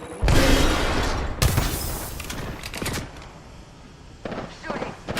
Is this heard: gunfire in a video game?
yes